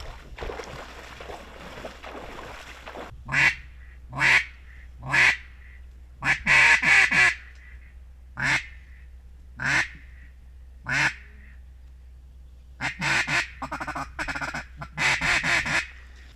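Ducks quacking at a reservoir, a run of loud, nearby quacks in short bursts and clusters after a few seconds of hissing background noise.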